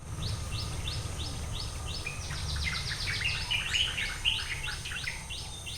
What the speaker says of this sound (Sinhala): ඔයාලට ඇහෙනවද දන්නේ කුරුල්ලන්ගේ හඬ.